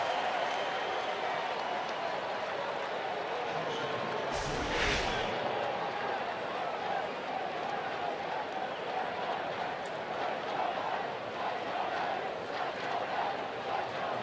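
Mets fans' cheering section roaring at a Mets–Cubs baseball game in Chicago, a steady loud crowd cheer filling the whole stretch with a few claps, while a broadcaster talks over it.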